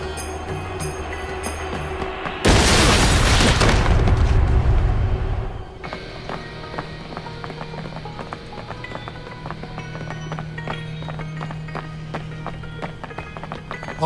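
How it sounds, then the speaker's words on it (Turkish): A bomb goes off as a single loud, broadband blast that rumbles for about three seconds before dying away, framed by quieter background sound before and after. "Bomba."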